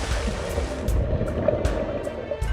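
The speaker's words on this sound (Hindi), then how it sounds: "इतना कहते ही मेहुल समुद्र में कूद जाता है।" Sea water washes and surges in a steady, close rush as a man leaps into the ocean, with a few louder splashy swells breaking through the continuous wash.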